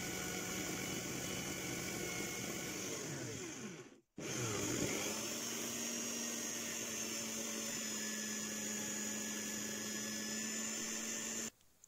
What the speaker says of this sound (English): sanding board.